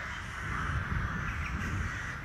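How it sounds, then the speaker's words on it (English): Crows caw in a Leap Motion virtual reality experience, a continuous harsh cawing texture over a steady noisy background, no talk. "The birds are circling me."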